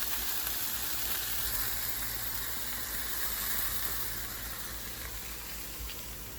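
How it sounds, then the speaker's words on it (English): Mutton patties fry on a hot surface with a steady, even sizzle and hiss that holds at a constant level throughout, with no talking. "Three yummy patties going. Mutton patties."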